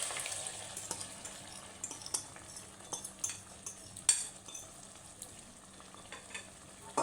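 Soaked lentils being stirred into boiled meat for haleem, soft scraping and clinking of a spoon in a pot at a steady pace over a faint simmering background.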